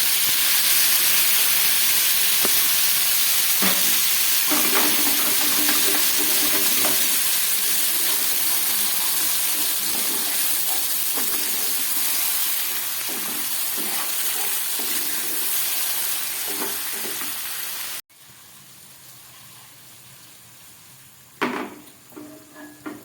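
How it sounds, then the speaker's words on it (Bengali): Boiled peas, sautéed beforehand, sizzle and hiss in a frying pan, a continuous steamy crackle with occasional utensil taps that fades and drops away sharply before a few louder scrapes at the end. "সবই সিদ্ধ করা ছিল, হালকা করে ভেজে নিলাম"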